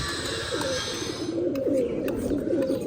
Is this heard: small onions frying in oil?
no